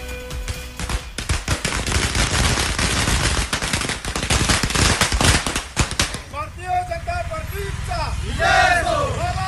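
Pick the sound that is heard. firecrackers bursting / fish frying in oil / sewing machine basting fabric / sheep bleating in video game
firecrackers bursting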